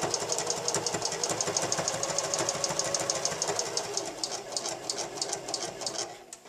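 A sewing machine stitches bias tape toward a mitered corner, running in a fast, even mechanical chatter of needle strokes that carries steadily before stopping near the end.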